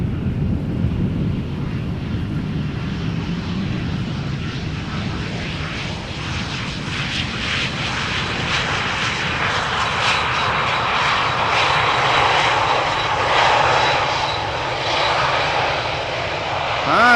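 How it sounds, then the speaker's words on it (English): A 14-year-old CRJ regional jet touches down at Amsterdam Schiphol, its engines producing a continuous, fairly loud roar with a hiss that brightens gradually toward the end of the rollout. "This CRJ now touching down after an hour and 44 minutes of flight time"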